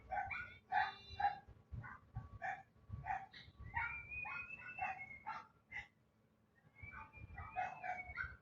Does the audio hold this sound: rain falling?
no